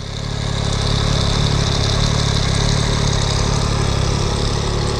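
A new motorcycle idles through its exhaust, a steady, close, even mechanical hum that holds at a constant level throughout with no voices.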